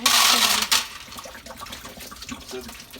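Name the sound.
dumping canteen contents into a strainer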